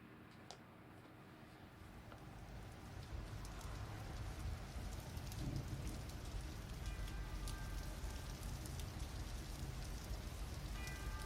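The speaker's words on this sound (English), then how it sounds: "chime tolling in the distance, and we get some rain sounds." Steady rain patters on surfaces at the opening of a song, with a faint chime tolling far off in the background, growing slightly more present toward the end.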